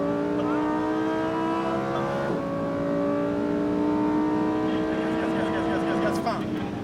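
A 640 hp Lamborghini Huracan Performante accelerates hard on a race circuit. Its engine wails loud and close through a rising pitch, with a quick upshift partway and another near the end, under an instructor's continuous speech.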